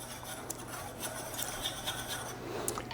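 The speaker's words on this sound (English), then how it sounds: "take the flour and add the protein powder to it. Just whisk those two together." A whisk stirs flour and protein powder together in a bowl, making soft, continuous scratchy rubbing with light clinks against the bowl. The sound stays close and quiet over a low background hum, with no talking.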